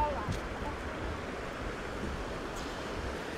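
Boiling hot spring water pouring into a cold river, a steady, loud broadband rush of churning water with no letup.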